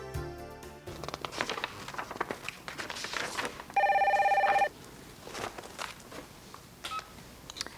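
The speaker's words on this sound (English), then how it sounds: "Let's see what happens when Robin follows up with a phone call to Vicki." A rapid run of touch-tone dialing beeps opens the clip, followed by a steady electronic phone ring burst midway, with faint shuffling noise throughout.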